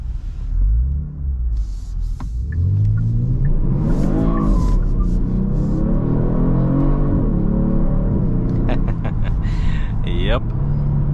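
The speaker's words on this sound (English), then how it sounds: "Let's do an acceleration here with sport plus mode and test the traction control" A 2022 Genesis G70 rear-wheel-drive sedan in Sport Plus mode accelerating hard, the engine note rising through gears with upshift dips and a brief tire chirp, heard from inside the cabin.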